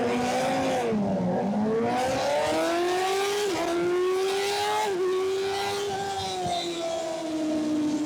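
Motorcycles launch at the start of a CVMA amateur Formula middleweight race, their loud, close engines rising in pitch as they accelerate, with a gearshift dip and the sustained roar of several bikes together.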